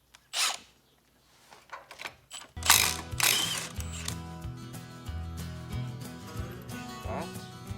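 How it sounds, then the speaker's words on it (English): An impact wrench fitted with a 12-point socket works on a 1948 Ford truck with a flathead V8. Scattered clicks and knocks come first, then the wrench's loud buzzing hammer runs for several seconds and gradually fades. "12-point socket on an impact."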